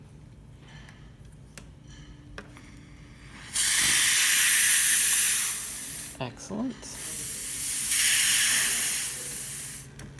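A La Pavoni Europiccola espresso machine's steam wand blasts loud bursts of hissing steam, two long sprays with a brief sputtering gap between, after faint mechanical clicks; someone speaks briefly.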